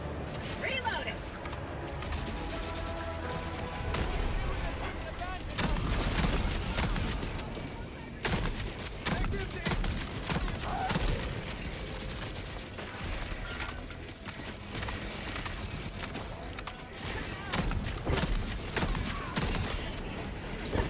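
Dense gunfire and explosions in the video game Helldivers 2, a sustained loud barrage of overlapping shots and mechanical clatter with sharp impacts, voices shouting in the game under the noise.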